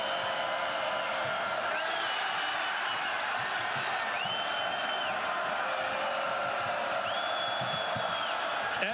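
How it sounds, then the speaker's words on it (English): A packed arena crowd at a Florida Gators men's basketball game against Vanderbilt roars steadily throughout, a dense continuous wash of cheering with a few thin squeaky tones riding on top. "the crowd is back into it"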